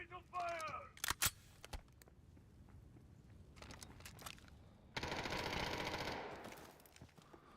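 Gunfire in the video game Delta Force, a short burst of sharp shots early on followed by scattered quieter reports and game noise, with people talking.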